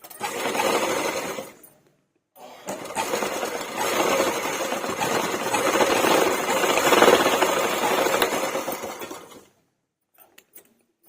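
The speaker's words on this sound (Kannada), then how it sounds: "ಎಲ್ಲೂ ಬಿಚ್ಚೋಗದೆ ಇರೋ ಥರ ನೀಟಾಗಿ 2-3 ಸ್ಟಿಚ್ ಹಾಕೊಂಡು ರಫ್ ಹೊಡ್ಕೊಳ್ಳಿ" A sewing machine runs in two bursts while stitching fabric for a handmade purse sewn from waste materials, with a steady mechanical whir and rattle up close, a short pause between runs, then silence at the end.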